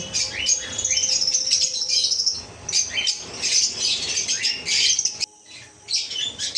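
Fischer's lovebirds and their chicks in a cage at a bird farm squawk and chirp in loud, overlapping bursts, near and busy, with a short lull near the end, and no voices.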